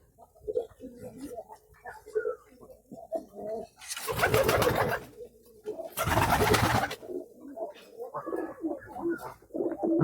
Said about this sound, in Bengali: দেখেন আস্তে আস্তে তিন চার জোড়া কবুতর খাবার খাইতে নামছে